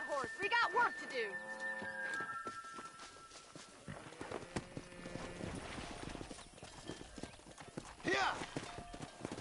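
Video game horse hooves clip-clop at a steady walking pace, with a horse whinny and several voices talking over the hoofbeats.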